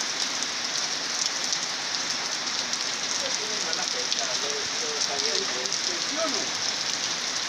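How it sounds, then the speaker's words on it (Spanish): Steady rain falls in El Salvador in mid-June, a dense, even hiss that holds at one level throughout with no breaks. "Esta lluvia está cayendo el 16 de junio del 2017 en El Salvador."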